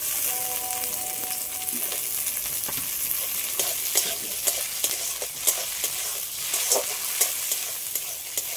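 Prawns fry in a pan alongside banana flower, making a steady hiss of sizzling oil punctuated by sharp crackles and spatula clicks, close and continuous.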